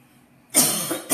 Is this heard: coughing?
yes